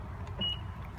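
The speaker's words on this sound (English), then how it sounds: "the car's locked up." Remote lock chirp from a 2016 Honda Pilot EX-L with black rims, a single short, thin high beep heard nearby over steady low outdoor rumble.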